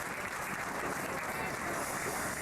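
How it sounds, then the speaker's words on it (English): Workers at a Buick Grand National car plant clap and cheer as a crowd, a faint, steady wash of applause with voices mixed in. "there were people cheering, there was people clapping"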